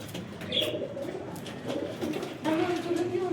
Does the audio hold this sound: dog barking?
no